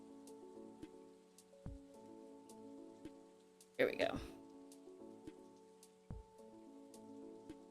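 Rain in the video game Stardew Valley falls as a soft continuous patter with faint drop ticks, with a brief louder rustle midway and a short line of talk over it.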